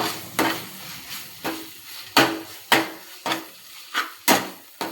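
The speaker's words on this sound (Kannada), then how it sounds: "ಈಗ ಕಡಲೆ ಬೀಜದ ಪುಡಿನೇ ಆ್ಯಡ್ ಮಾಡ್ತಾಯಿದ್ದೀನಿ" Spoon stirring ground peanut powder into chitranna rice frying in a pan, about nine sharp scraping strokes in an even rhythm over a soft sizzle, close and clear with no talk.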